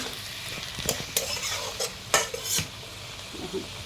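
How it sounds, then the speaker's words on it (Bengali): A spatula scrapes and knocks through pointed gourd and pre-fried potato pieces in a sizzling pan, several brisk stirring strokes with metallic clinks over a low fry, close and without speech. "ভেজে রাখা আলুটা দিয়ে আমি আরেকটু নাড়াচাড়া করে রান্না করে নেব"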